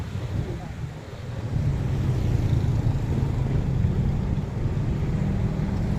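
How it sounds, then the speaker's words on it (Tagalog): Steady wind buffets the microphone, a broad rushing roar that swells slightly after the first second and holds, with no clear voices. "Mahangin dito."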